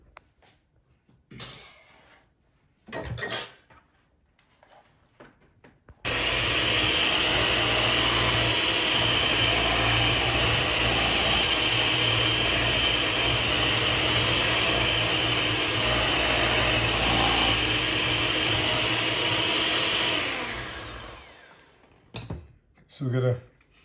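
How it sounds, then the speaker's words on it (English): An electric hand mixer whirs loudly and steadily for about fifteen seconds while beating banana waffle batter, with brief clatter and quiet kitchen handling before it starts and after it winds down. "now we're going to use the mixer and we're going to mix this good."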